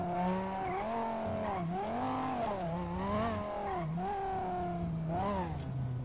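Dodge Viper engine in the GTA 5 video game, a loud, close, continuous growl that climbs and falls in pitch through several rev swells over six seconds.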